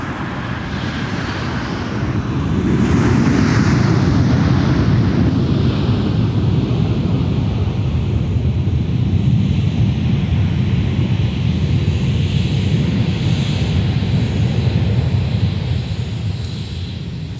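A Delta Airbus A321 arriving at Minneapolis–St. Paul airport, its jet engines a loud, broad roar that swells after a couple of seconds and holds steady near the microphone, with some wind buffeting.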